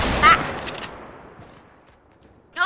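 Gunfire in the Fortnite video game: a short burst of shots at the start fading into a quiet tail, with another loud burst at the very end; a voice is briefly heard.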